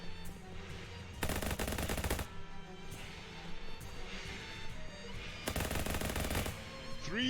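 Rapid bursts of gunfire ring out in the video game Shadows Over Loathing, two dense volleys of about a second each, loud and close, separated by quieter game ambience.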